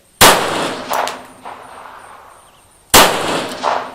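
Two sharp, loud 9mm pistol shots from a Springfield Range Officer firing cheap ammunition, spaced nearly three seconds apart, each followed by a short echoing decay and faint clatter at an outdoor range.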